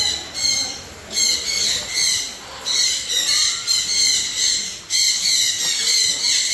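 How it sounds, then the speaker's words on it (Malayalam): Birds in a park at Mini Ooty, Malappuram, give repeated shrill, squawking calls in bursts of about a second, fairly loud and close, with no talking. "അങ്ങോട്ടും ഇങ്ങോട്ടൊക്കെ കിളികൾ പോകുന്നുണ്ട്"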